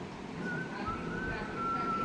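A person whistling outdoors, a thin wavering tone that rises and holds in sustained phrases over steady background noise and distant traffic, with no talking.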